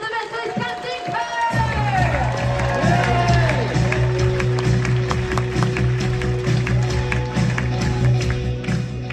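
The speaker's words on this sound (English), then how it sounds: "give him a big round of applause for the celebrity beyond orchestra" Audience applause and cheering aboard the Celebrity Beyond cruise ship for the ship's orchestra, a dense, steady crowd roar with clapping filling the clip, mixed with music and voices over a sustained low tone.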